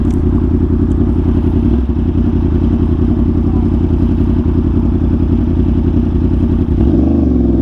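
A Yamaha R1 superbike engine revs hard and steadily during a ride, a loud continuous roar with a shift in pitch near the end, heard close with no talking.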